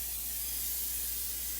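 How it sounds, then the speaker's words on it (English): Cooking spray hisses onto a bread pan in one continuous, even burst, a soft, close, breathy spray with no voices. "I'm going to go ahead and spray my pan"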